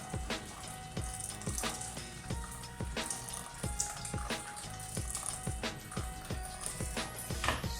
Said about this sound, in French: Je vais mettre 700 grammes d'eau.